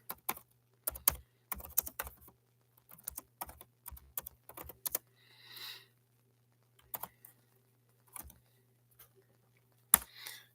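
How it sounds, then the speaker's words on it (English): Bursts of rapid clicking keystrokes on a computer keyboard, close and clear, with short pauses between runs and a few isolated taps, no talking. "Let me get it typed in."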